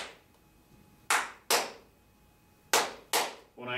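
Four sharp hand claps in two close pairs, each clap loud and crisp with a quick decay, tapping out a ta-e-ti eighth-note rhythm in a quiet room; a short voice starts at the very end.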